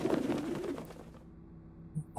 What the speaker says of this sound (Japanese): 鳩、確かになんか変だったよ。